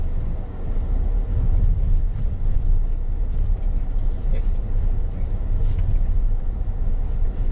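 SsangYong Rexton Sports Khan pickup rolling slowly around the area at about 10 km/h, a steady low engine and road rumble from inside the cab, with faint wind noise and no talking.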